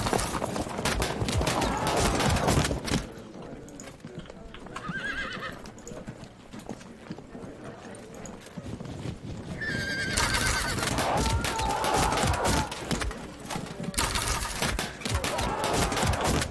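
Horses gallop with busy clip-clopping hooves while several whinnies ring out, amid a dense, chaotic battle din in the video game Field of Glory II.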